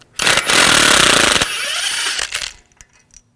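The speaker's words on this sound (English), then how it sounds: "Now, remove the bolt. Use a 13mm socket." A power tool with a 13mm socket spins out an axle bolt on a 2001-2009 Volvo S60, a loud close whirring rattle for about two seconds that tapers off, followed by faint metallic clicks.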